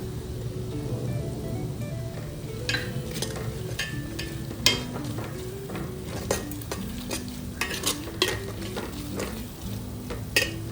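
Onions and spices fry for mutton curry while a spatula stirs them steadily in a metal pan. The sizzle runs throughout, broken by repeated scraping clinks, and no one speaks.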